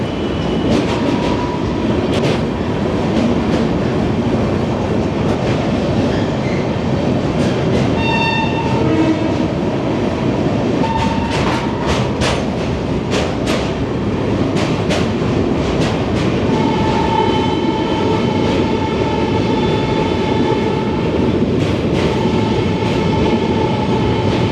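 A train at Varanasi Junction railway station rumbles steadily and loudly throughout, with rail clatter, a horn-like tone and scattered metallic clicks.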